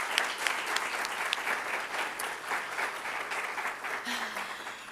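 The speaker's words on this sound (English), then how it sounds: "So let's give them a round of applause too." An audience at a student government inauguration and awards ceremony applauds, dense sustained clapping from many hands filling the room and continuing throughout.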